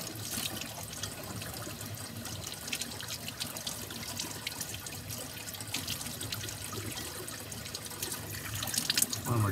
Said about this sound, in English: we can go ahead and rinse our brush